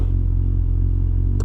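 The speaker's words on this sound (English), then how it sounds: "I had a bit of a challenge trying to get the exhaust to sound a nice, good, loud tone" A Honda Hornet motorcycle with a stock catalytic converter and an aftermarket Yoshimura end can produces a steady, loud, low exhaust rumble close by for a brief moment, with no distinct revving.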